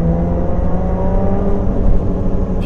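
A Lotus Evora 410 GT Sport's engine drones loud and steady under load while driving, a close, sustained mechanical hum from inside the car with no talking.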